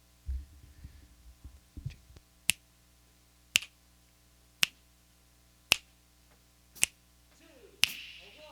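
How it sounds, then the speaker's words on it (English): Audience finger snaps keep a slow, even beat during a live music stream: six sharp, evenly spaced snaps after some soft murmuring and shuffling at the start, ending with a faint rustle. "You want to give us some finger snaps?"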